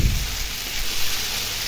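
Vermicelli with sugar fries in ghee, giving a continuous, fairly loud hiss and sizzle with a brief low thump at the start and no voices.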